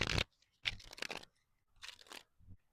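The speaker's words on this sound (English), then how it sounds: "Let's shuffle your deck. I don't know if you can hear the shuffle." A tarot card deck is shuffled in close, crisp bursts, four quick riffling rustles separated by short silences.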